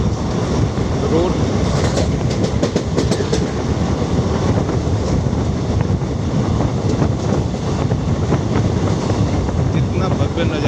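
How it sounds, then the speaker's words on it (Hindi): A Mumbai train running on its rails through hills and brush, a continuous loud rumbling roar with rhythmic clickety-clack of wheels over rail joints throughout, close and steady. "पर्वतों के बीच से झाड़ियों के मध्य में होती हुई रेल और ट्रेन दोनों एक साथ में"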